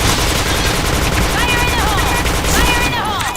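Rapid MP7 automatic fire in the online shooter Point Blank, a loud, dense rattle of shots that runs unbroken, with a voice briefly speaking over it.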